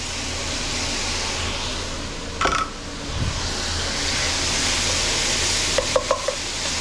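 Garlic sizzles steadily in a hot pan while a utensil stirs it, a few light scrapes and taps over the continuous frying hiss.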